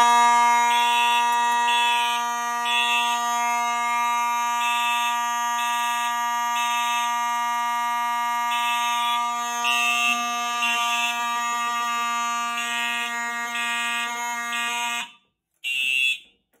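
Fire-Lite MS-9600UDLS fire alarm system sounding after a smoke detector is set off with a magnet during a system test: a loud, steady electronic tone with pulsing beeps, running continuously before cutting off, briefly sounding again and stopping.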